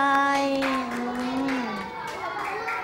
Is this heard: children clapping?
yes